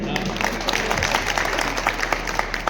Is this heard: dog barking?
no